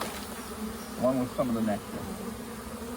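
Honey bees buzzing around a hive frame, a steady low drone with a couple of louder passes close by as bees fly near, heard under someone talking.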